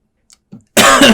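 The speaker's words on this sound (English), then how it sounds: "You just gonna cough on my hand like that?" A single sharp human cough, close and loud, preceded by a couple of faint small sounds.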